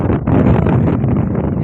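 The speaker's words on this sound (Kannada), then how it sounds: "ಹೆವಿ ಗಾಳಿ," Strong, steady wind buffets the microphone on foggy Mullayanagiri hilltop, a dense roaring rush for the whole moment with no break.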